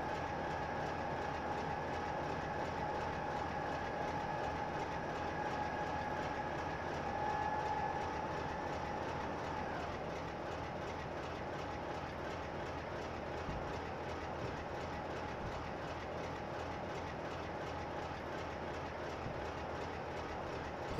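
Freight train in a Bristol to Exeter rail simulator game, a steady rolling rumble with a sustained tonal whine that cuts off partway, continuous and moderately loud with no talking.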